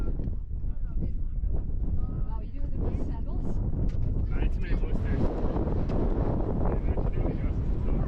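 Wind gusting across an open alpine summit near Mt Moosilauke at 4,802 feet, a heavy rumbling buffet on the microphone that stays loud throughout, with a voice talking underneath.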